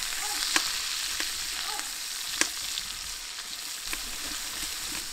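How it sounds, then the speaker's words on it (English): Peppers and onions sizzle steadily in a pan over a brick rocket stove, a close, continuous frying hiss broken by occasional scrapes and clacks of stirring, with no voices. "into the pan goes my peppers and onions"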